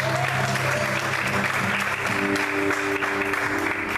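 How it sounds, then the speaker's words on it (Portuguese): Church congregation applauding in a loud, dense, sustained round of clapping that fills the whole stretch, with faint voices mixed underneath. "Se é para Ele, aplauda mais forte, glorifica a Deus."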